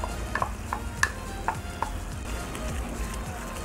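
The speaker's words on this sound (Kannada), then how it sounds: "ಟೊಮೊಟೊ ಕೂಡ ಸ್ವಲ್ಪ ಫ್ರೈ ಆಗಲಿ" Tomato and ground coconut masala fry in a pan for an egg kurma. A soft, steady sizzle runs under a few quick, bright clinks of a spoon against the pan near the start, and no one speaks.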